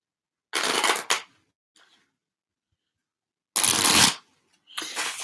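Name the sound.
shuffling a deck of cards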